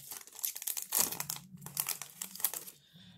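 A foil trading card pack wrapper crinkles and tears open in quick, uneven bursts, close up and crisp, with a brief pause midway and no talking.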